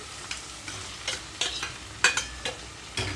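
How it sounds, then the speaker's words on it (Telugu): Tomatoes tossed into onions frying in a pan for a raw banana gravy curry, with a gentle sizzle under a series of sharp, evenly spaced stirring scrapes, close and moderately loud. "ఉల్లిపాయలు కొంచెం కలర్ మారేటప్పుడే ఇందులోకి నేను టమాటో వేసేసుకుంటున్నానండి"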